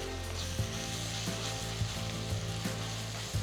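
Onions with ginger garlic paste sauté in a pan, a continuous loud sizzle with a spatula stirring and scraping in a regular rhythm, close up and with no talking.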